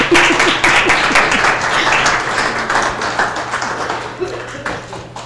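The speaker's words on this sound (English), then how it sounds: "Everyone give Daryl a round of applause from the UT" A town hall rally audience claps in a steady, close round of applause that thins gradually toward the end, with a low hum and some voices beneath.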